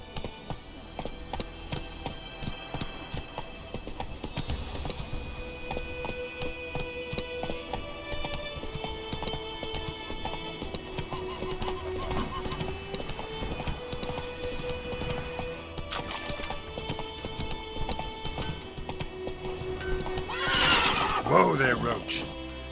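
In The Witcher 3 video game, a horse gallops with rhythmic clip-clop hoofbeats and lets out neighs and whinnies, set against game music, with a loud whinny near the end.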